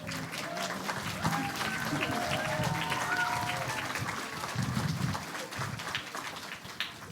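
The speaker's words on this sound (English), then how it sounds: "A round of applause, please, for them." An audience at a community hospice's Lights of Love gathering applauds its choir, a sustained, full round of clapping with crowd murmur and some voices mixed in beneath it.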